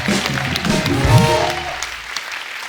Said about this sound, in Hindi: एक बार सर के लिए जोर बड़ा तालियां हो जाए।